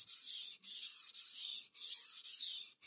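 Steady back-and-forth rasping of a kitchen knife blade stroked across a wet whetstone with metal slurry, five or six even strokes with brief pauses between, close and clear with no talk.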